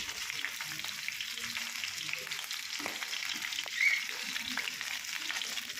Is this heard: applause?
no